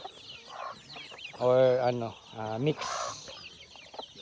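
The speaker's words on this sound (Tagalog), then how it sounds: "Mga sisiyo native chicken." Native chickens and chicks on a small farm, clucking in a few short, tonal bursts at close range, with a higher squawk after them and faint farmyard background noise.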